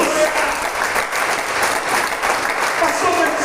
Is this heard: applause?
yes